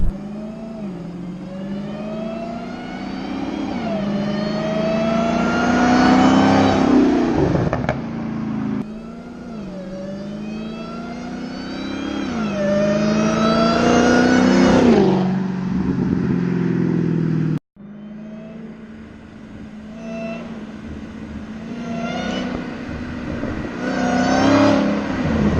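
A Dodge Hellcat V8 fitted with a Bwoody velocity stack intake revs loudly through several rising pulls in manual mode, each climbing sweep ending in a sharp drop before the engine builds again, close and powerful with no talk.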